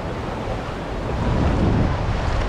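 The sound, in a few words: sea waves at a sunny beach, São Paulo coast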